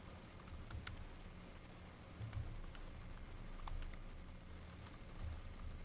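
Quiet keyboard typing as a password is entered on a computer, with irregular soft key taps and clicks spread across a faint background hum.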